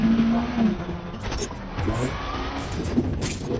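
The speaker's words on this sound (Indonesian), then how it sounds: "Benji dan Ethan lalu mengendari mobil dan tancap gas untuk mengejar Ilsa" A car speeds off in a film chase scene, its engine rising under a busy mix of music and effects, with brief tire noise and loud, continuous action sound throughout.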